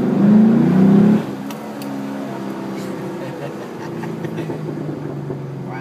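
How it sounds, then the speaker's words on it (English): Chevrolet Camaro SS V8 engine revving and accelerating from inside the car, a loud deep rumble for about a second that drops to a steady lower drone, with people talking over it. "Mind if I give it a little gas?"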